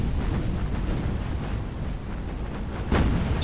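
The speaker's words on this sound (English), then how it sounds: "If I can get just another shot into her with the torpedo." Heavy explosive booms of torpedoes striking an enemy battleship in the naval combat game Battlestations: Pacific, a sustained rumbling roar with a sharper blast near the end.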